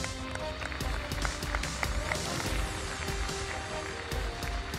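Audience applause at the PTC Punjabi Film Awards 2017 as two actresses are called to the stage, a dense, steady wash of many hands clapping loudly with scattered sharp claps throughout.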